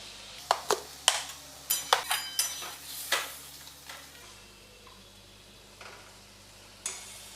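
Aloo paneer curry cooking uncovered over a high flame, with a low bubbling sizzle under a run of clattering utensil knocks and scrapes against the pot that thin out toward the end.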